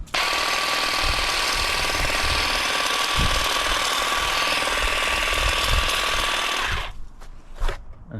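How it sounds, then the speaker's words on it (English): An Ingco cordless garden shear buzzes steadily while cutting during garden pruning, a close, continuous mechanical drone that cuts off near the end and leaves a few faint clicks. "it sounds like it's got no power because it's so quiet, but cuts through, no problems"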